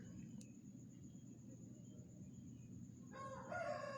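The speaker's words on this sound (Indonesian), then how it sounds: "Mohon maaf ini apabila ada suara ayam masuk karena ini masih pagi-pagi saya membuat video ini" A distant rooster begins crowing near the end, faint over a steady low hum of room noise.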